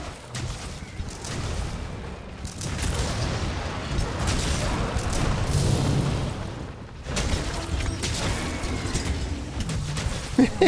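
Wyrmburst Stake explosions from several gunlances in the Monster Hunter video game: heavy, rumbling booms and bursts that pile up into a dense, sustained roar for several seconds, then a brief dip before more blasts.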